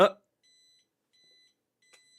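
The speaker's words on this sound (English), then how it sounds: "I got an alarm going off." An electronic alarm beeps faintly in three short tonal bursts after a brief burst of other sound, with silence between the beeps.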